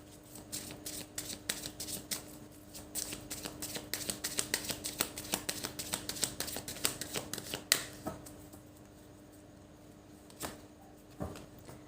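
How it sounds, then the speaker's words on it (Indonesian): Tarot cards shuffled by hand in a steady run of crisp riffling flicks for about eight seconds, then a few isolated taps and card slaps, close and fairly quiet, with no talking. "Aku tambahin kartu."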